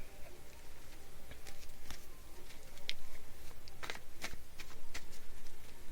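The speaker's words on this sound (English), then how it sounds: "Let me just shuffle up your cards here." Tarot cards are shuffled by hand in a quiet room: soft, irregular riffling and papery flicks with a few sharper snaps, steady and close over a faint background hiss.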